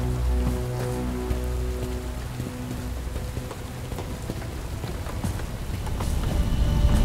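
Steady rain in the Bright Memory Infinite video game, a dense hiss of falling water with scattered droplet ticks, growing slightly heavier toward the end, with a low hum underneath.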